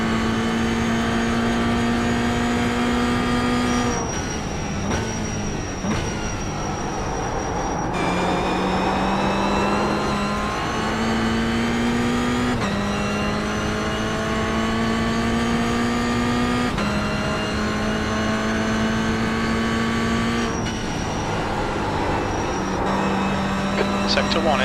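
A Toyota GR86 race car at Summit Point runs at full throttle, its engine droning steadily and rising in pitch through each gear before brief shifts. Someone talks over the engine at times.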